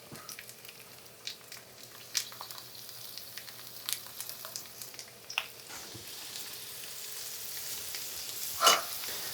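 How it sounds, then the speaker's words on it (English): Coated meat-free pieces fry quietly in a pan, a soft steady sizzle with scattered small pops and crackles, fairly faint and close, with one sharper louder crackle near the end. "fry each side for like 3 to 4 minutes, and then we'll flip them over"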